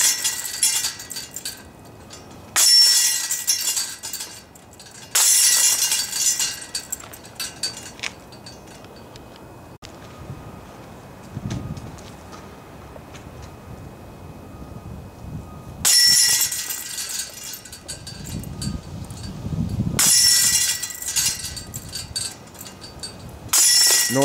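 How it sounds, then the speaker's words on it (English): Short disc golf putts strike an Axiom Pro basket, each landing as a bright metallic crash and jingle of chains, several separated by quiet gaps with footsteps and rustling between. "these are just some basic short putts at my normal putting speed and pace."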